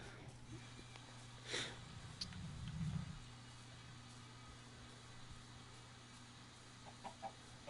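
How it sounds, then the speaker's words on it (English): Chickens clucking in the video game Minecraft, a few short faint clucks in a quiet farm scene, with a brief louder burst early on and a couple of soft clicks near the end. "Let's see if I can get my chickens all in one useful place."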